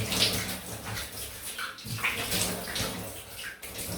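Running tap water splashing steadily as a Gillette 1959 Fatboy safety razor is rinsed under it, a continuous close hiss of flowing water with small clinks and splashes and no voices.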